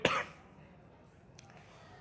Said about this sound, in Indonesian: Ini batuk tadi nih gara-gara makan pedes.